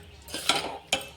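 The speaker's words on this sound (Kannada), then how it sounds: "ಹಾಕಿ ಸ್ವಲ್ಪ ತಿರುವಂಬ್ರಿ." A spoon stirs rice payasam with crushed cardamom in a pot, giving a few quick scrapes and clinks against the metal in a short, close burst with no talking.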